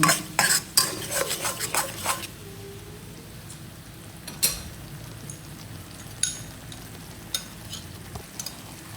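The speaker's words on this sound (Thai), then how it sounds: "แล้วก็ส้มแขกค่ะ ผัดผัดทุกอย่างให้เข้ากัน" Curry paste with garcinia stir-fried in a pan: several sharp, bright scraping clatters of a utensil against the pan early on, then occasional stirring strokes over a low, steady sizzle.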